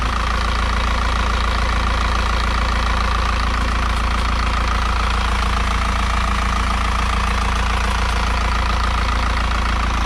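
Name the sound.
Isuzu NPR truck engine idling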